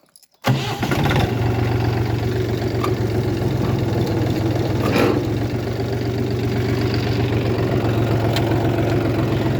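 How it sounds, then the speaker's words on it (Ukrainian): A Dongfeng tractor engine turns over and settles into a steady, loud low rumble that runs without a break, with no voices over it. "Ну, а я буду запускати трактора та запускати косарку."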